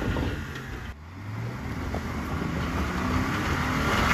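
A Jeep Cherokee KL on a rocky off-road trail drones with steady engine noise that climbs slowly as the front driver-side tire spins, with no voices over it.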